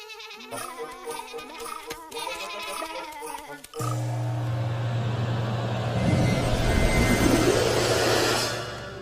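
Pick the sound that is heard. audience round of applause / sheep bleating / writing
sheep bleating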